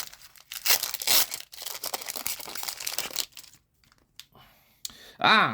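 A 2024 Topps F1 trading card pack is torn open close up, with crinkly foil ripping and rustling in uneven bursts, a pause, then a final sharp crinkle.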